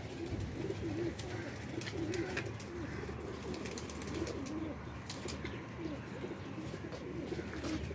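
Blue pigeons coo in a steady, soft murmuring chorus nearby, with repeated low coos layered over faint background rustling and occasional chirps.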